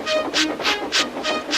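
A steam-style tank engine running on rails in a Thomas the Tank Engine setting, with rhythmic chuffing bursts repeating about every third of a second, steady and fairly close.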